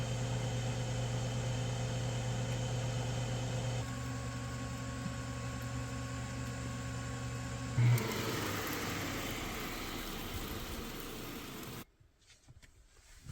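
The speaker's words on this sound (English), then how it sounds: "So, we'll air fry that 10 minutes, see what happens." An air fryer inside a camper van hums steadily with a tonal motor whine and fan noise, shifting pitch partway, then a brief click before the noise cuts off abruptly near the end.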